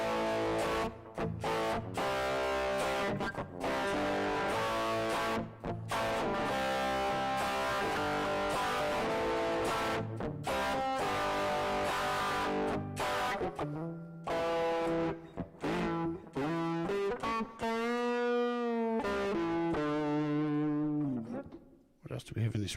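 An electric guitar through the IK Multimedia X-Drive digital distortion app, UK-style tone with light reverb, plays chords and sustained single notes, loud and continuous, ending on wavering held notes.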